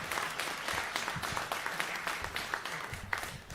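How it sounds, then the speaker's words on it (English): An audience at a grassroots townhall meeting claps steadily, a dense even patter of applause carrying on throughout at moderate loudness. "Give a round of applause for Mitch."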